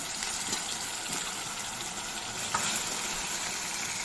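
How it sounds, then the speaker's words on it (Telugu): Mutton pieces tipped into a pan of softened onion, turmeric, salt and ginger-garlic paste for a cashew mutton curry set off a loud, dense, steady sizzle, close and unbroken, with a faint knock partway through. "మగ్గిన తర్వాత మటన్ వేసేస్తున్నాము"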